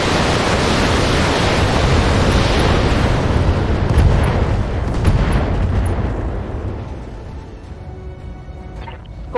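A heavy mech in the game Battletech fires all its weapons at once, a loud, dense roar of blasts and rumbling explosions that slowly fades over several seconds, ending in faint mechanical clicks.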